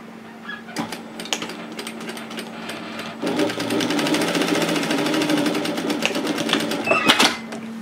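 Sewing machine stitching a 1 cm (3/8 inch) seam along the edges of sun hat band pieces placed right sides together; a brief burst of stitching, a pause, then a steady, close run of rapid needle chatter.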